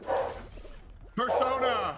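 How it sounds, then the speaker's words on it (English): A pet dog named Ryuji barks and yips nearby at home, a few sharp barks breaking through close talk during a gaming session, with a person speaking over and between them. "that's my dog. I'm sorry."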